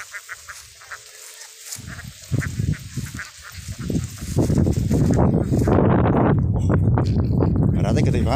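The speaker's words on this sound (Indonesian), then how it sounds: "Bebek-bebek kita ini Mas." Ducks in a pen at a duck farm, a loud, dense chorus of quacking that swells from scattered calls into a continuous close clamor, with a voice heard near the start.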